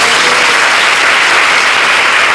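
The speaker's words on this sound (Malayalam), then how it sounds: "ആഗ്രഹമുള്ളവരെല്ലാം ഒന്ന് കൈയടിച്ചു വെക്കണം" A congregation at a community worship gathering claps together in steady, dense applause, a continuous wash of many hands throughout with no voices over it.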